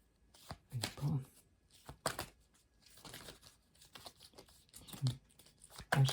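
Tarot cards being shuffled in short riffling bursts, close and fairly quiet, with soft handling noises and pauses between them.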